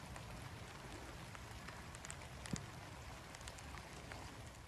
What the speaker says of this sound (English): It's raining, so we're getting this.